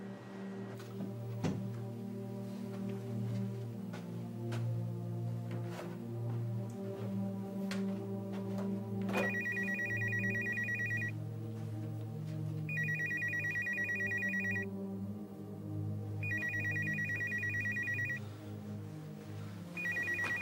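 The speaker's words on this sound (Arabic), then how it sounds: "تلفونك قاعد يرن." A mobile phone rings on and off for about twenty seconds, its electronic ringtone repeating in steady bursts over a low background hum, with no talking.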